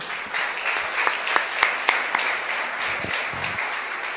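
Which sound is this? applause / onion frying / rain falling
applause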